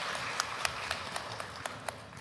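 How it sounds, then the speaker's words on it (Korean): Audience at a national education forum applauding, a steady, dense patter of clapping with a few sharper individual claps standing out, moderately distant and even throughout. "다시 한번 박수 보내주시면 좋겠습니다"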